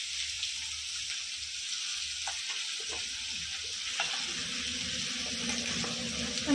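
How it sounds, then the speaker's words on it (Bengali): New, unpeeled potatoes frying in a pan, giving a continuous close sizzle and hiss with occasional small pops and clicks, no voices present. "একটু ভাজা ভাজা করে নিলাম, এবার আলুগুলো দিয়ে দেব।"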